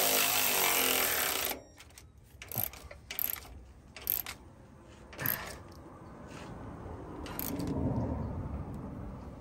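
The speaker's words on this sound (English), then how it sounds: "I'm gonna torque it down to about 90, 95 pounds." A bolt on a front sway bar end adapter is torqued down. A brief loud mechanical burst is followed by scattered metallic clicks and clanks of the tool, fairly quiet and close, with no talk.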